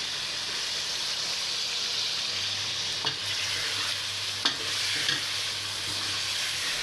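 Chicken badami korma stirred in a pan, a continuous soft sizzle with a few distinct scrapes and taps of a spoon against the pan.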